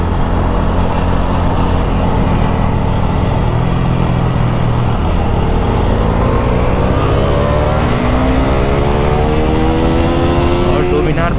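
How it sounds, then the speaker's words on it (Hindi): A motorcycle on a Sunday group ride alongside a Dominar 400, R15M and Apache 200 is pushed to full throttle. The engine roars loud and close, its pitch climbing steadily through the gears over heavy wind rush. "बाइक को फुल फॉर्म में भगाएंगे"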